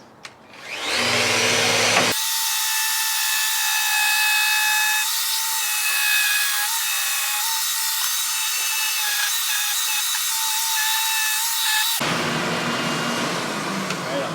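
A Festool RO-90 DX sander working an oak cabinet starts up after a brief lead-in, runs as a loud, steady high whine for about ten seconds, then cuts out into quieter noise.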